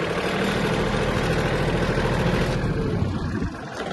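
A Yanmar AF-222 Japanese mini tractor engine runs loud and close with a steady low rumble as the clutch is released and it pulls away. Near the end the rumble shifts and eases slightly.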